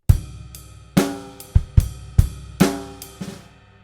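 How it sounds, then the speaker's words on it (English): One bar of a rock drum groove rings out on a kit, with firm snare and kick hits and a short buzzed snare ghost note near the bar's end, played alone. "So in bar 8, we've got that ghost note on the out 4 played as a buzz stroke."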